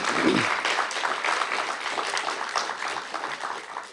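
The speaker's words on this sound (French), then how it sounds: "elle mérite vraiment de grands applaudissements de toute la salle" A hall audience applauds, many hands clapping at a moderate level, steady and continuous, easing slightly toward the end.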